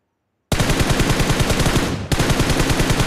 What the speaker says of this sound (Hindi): मेरे ऊपर गोली चल रही थी,